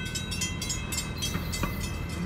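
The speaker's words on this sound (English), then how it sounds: "Once in a while we see a train." A train rolls through Gardena with a steady, close rumble of wheels and rails and a faint tonal squeal riding on top. The sound is continuous and fairly loud throughout, with no voices.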